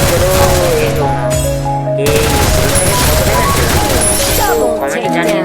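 Rapid gunfire in the mobile battle-royale game Free Fire, loud bursts running almost continuously with a short gap, under game music and a player talking over it.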